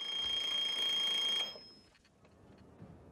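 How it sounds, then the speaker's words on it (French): An alarm clock rings at night in a 1988 Krzysztof Kieślowski film, a continuous bright metallic ringing for about a second and a half that then stops abruptly, leaving faint room noise. "Le soir, le réveil sonne."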